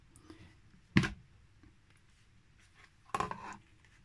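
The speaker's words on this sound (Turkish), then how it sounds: "Şimdi yoğurdumuzu açıyorum." Opening the covered container of homemade yeast-free Hıdrellez yogurt: two short, close plastic clicks and rustles about two seconds apart, quiet and otherwise alone.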